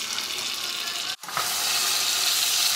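Shrimp frying in a pan, a steady loud sizzle that fills the whole stretch, briefly cut by a split-second gap before the hiss resumes just as strongly.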